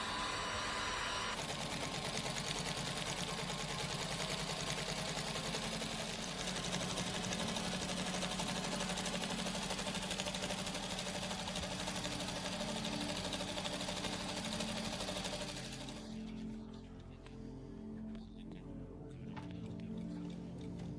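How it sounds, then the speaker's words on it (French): A single-needle sewing machine stitches the fabric envelope of an airship, running in a steady, rapid mechanical whir for about fifteen seconds before it stops and leaves quieter background noise. "nous utilisons une machine à coudre à une seule aiguille"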